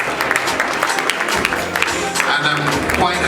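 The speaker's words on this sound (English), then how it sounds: "I want you to keep clapping until he gets it" Steady applause from a crowd at a company's 60th anniversary celebration party, continuous dense clapping with some cheering mixed in throughout, fairly loud and close.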